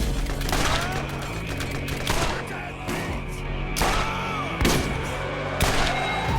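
Pistol fire in Borderlands with Mordecai, a run of sharp gunshots spaced every second or so over a busy game soundscape with music and effects.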